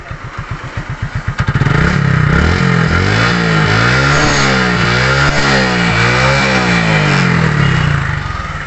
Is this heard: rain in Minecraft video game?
no